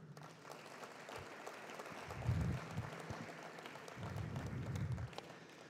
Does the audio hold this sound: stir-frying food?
no